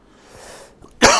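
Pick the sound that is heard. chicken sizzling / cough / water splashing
cough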